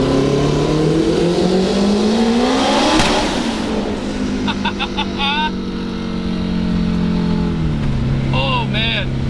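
A big-turbo Honda S2000 with an F-series engine accelerates hard, its rising engine note sweeping upward through the gears, loud and close, with short whistling turbo and shift sounds.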